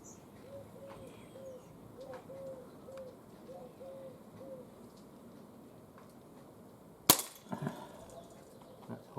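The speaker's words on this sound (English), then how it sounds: "So 10 shots, freestanding, 10 yards. Fresh CO2." Umarex race gun CO2 air pistol firing at a 10-yard target: one sharp loud crack late in the clip followed by a few fainter clicks, after a quiet stretch with birds cooing in the background.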